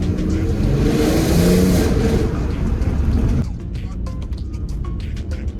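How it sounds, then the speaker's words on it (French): A 3.2 litre V6 in an Audi TT with a DSG gearbox, revving loudly and holding a rising roar before dropping back to a lower idle, while someone talks over it. "Elle fait un beau bruit, c'est un moteur quand même noble, le 3 litres 2"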